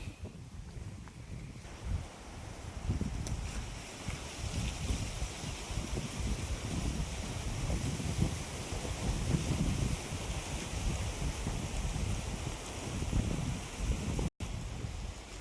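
Strong wind roars continuously into the microphone near open water in the Sathyamangalam forest, Tamil Nadu, buffeting loudly with gusty rumbling and what sounds like water in the background.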